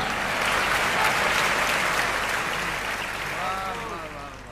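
An audience at a mushaira in Dubai applauds a shayari couplet with a dense, sustained burst of clapping that fades slightly toward the end. A voice rises briefly over the applause.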